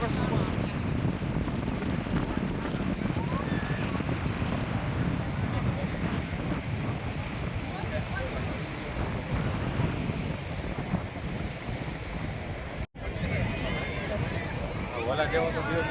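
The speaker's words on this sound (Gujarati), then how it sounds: "મસ્ત દરિયો છે એમ" Sea waves and steady wind wash against the shore at Dwarka, a continuous broadband roar of surf with wind buffeting the microphone, loud and close throughout, with a brief dropout near the end.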